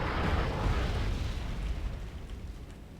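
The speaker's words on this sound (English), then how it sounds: "we managed to get some closer views of the saturation bombing in effect" Saturation bombing explosions rumble in Wargame: AirLand Battle, a dense, continuous wash of deep blasts and crackling bursts that is loud at first and slowly eases off, with no talk over it.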